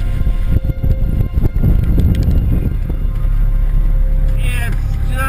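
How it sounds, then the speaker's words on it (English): Gale-force wind roars over a small sailboat at sea during a storm, a loud, steady rushing blast with gusting bursts and faint rigging whistles. "It's just about up to full gale blowing."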